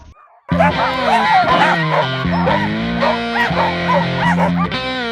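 Sled dogs on a mushing team yip, bark and whimper loudly and close by in a continuous excited chorus of high, wavering cries.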